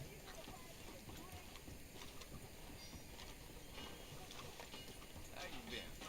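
Horse hooves clip-clop in Red Dead Redemption 2, a steady walking rhythm set against a busy game ambience, with no voices over it.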